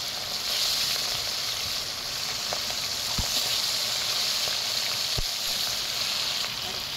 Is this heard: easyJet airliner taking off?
no